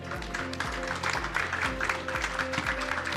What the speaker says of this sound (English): The applause should go on, guys.